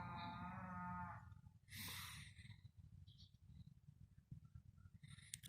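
A cow lets out a long low moo, followed by more mooing and distant cattle calls over quiet outdoor ambience.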